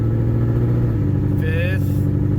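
A 2017 Mustang GT engine runs steadily at close range, its low drone stepping down and then rising again as the car works through the gears, with a brief higher whine near the end.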